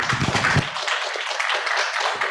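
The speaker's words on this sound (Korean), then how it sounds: "큰 박수로 환영해 주십시오" A conference audience applauds to welcome the third presenter at a basic income talk, a dense burst of clapping that holds steady for a couple of seconds with no voices over it.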